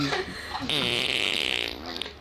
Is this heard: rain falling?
no